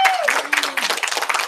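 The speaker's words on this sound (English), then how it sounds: "I would suggest that you applaud loudly for your own advisor" Students in a school auditorium applaud their advisor during a senior kickoff, a quick burst of scattered clapping that follows a short tone and a brief voice.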